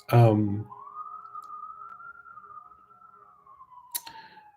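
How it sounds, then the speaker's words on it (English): A single siren wails steadily in the background of a New York home after a brief burst of speech, its pitch holding then slowly falling as it passes. "now there's sirens going by"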